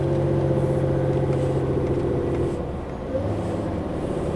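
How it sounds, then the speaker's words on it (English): A truck's exhaust brake drones loudly from inside the cab, a deep steady low rumble with a strong engine tone that dips briefly and then resumes. "Exhaust brakes, ace. It's not the best in the world, but it's good and it sounds mint."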